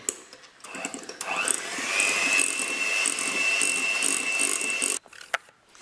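Electric hand mixer whirring steadily through orange-tinted cream for Halloween muffins, a continuous motor whine lasting about four seconds before cutting off, close and fairly loud with faint clicks around it.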